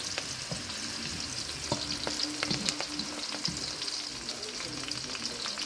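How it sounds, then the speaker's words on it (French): Onions fry in a pan for Chinese fried rice, giving a steady, fairly quiet sizzle with occasional crackles and light stirring scrapes, heard alone without talk. "on va laisser les oignons frire un peu, le temps de faire remonter le parfum des oignons."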